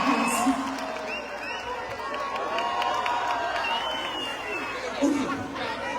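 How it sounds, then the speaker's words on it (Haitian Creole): Live concert audience at La Nuit d'Afrique in Montréal applauding and cheering for Michel, a crowd roar with scattered whoops and chatter, swelling briefly near the start and again toward the end. "Je vous demande d'applaudir Michel, s'il vous plaît."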